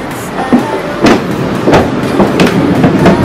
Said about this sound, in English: Train right there.